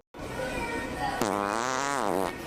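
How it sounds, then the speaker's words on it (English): A squeaky, wobbling fart-like honk from a squeezed toy, starting abruptly and held for about a second, loud and close. "it sounds like you squeeze it and it sounds like farts"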